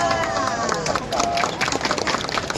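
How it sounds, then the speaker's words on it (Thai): Clapping from a live audience applauding a chef at a Thai food event, a steady patter of many hands mixed with crowd noise and a bright musical tone above it. "เสียงปรบมือดังๆให้กับเชฟจีด้วยค่ะ"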